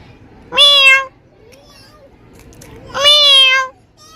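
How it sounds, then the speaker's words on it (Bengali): A cat gives two clear, loud, drawn-out meows close by, about two and a half seconds apart, with quiet background noise between them. "মেয়াও মেয়াও বলে ডাকে"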